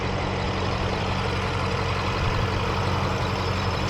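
A BMW X5 M's 4.4-liter twin-turbo V8 idles with a low, steady rumble and a slightly rough, chattering texture, heard up close with no speech.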